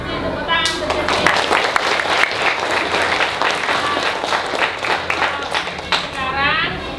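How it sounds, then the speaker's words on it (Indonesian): Elementary school pupils applaud in a classroom for several seconds, with dense, lively clapping close by and children's voices mixed in at the start and end. "Tepuk tangan untuk Justin."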